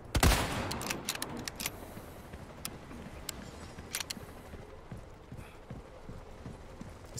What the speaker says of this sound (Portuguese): Esse tiro faz o Mike vir mais cedo.